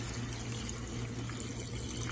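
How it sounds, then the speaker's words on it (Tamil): Water pours steadily into a pressure cooker holding masala coriander chicken for a salna, a continuous close splashing stream with no talk. "இப்போ தண்ணி சேர்த்து குக்கரை மூடி நம்ம குக் பண்ண போகிறோம்."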